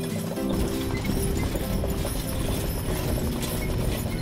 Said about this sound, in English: I've rolled that chariot probably half a dozen times